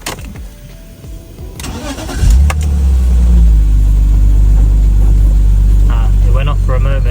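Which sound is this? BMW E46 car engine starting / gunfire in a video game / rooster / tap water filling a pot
BMW E46 car engine starting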